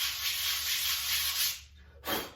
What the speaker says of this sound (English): The side that you're gluing to that knife, make sure you scuff that really good.